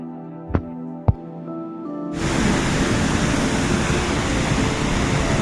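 Waterfall of the Amrit Ganga stream at the Anusuya Atri Muni ashram in Uttarakhand, rising suddenly after a couple of sharp knocks into a loud, steady roar of falling water.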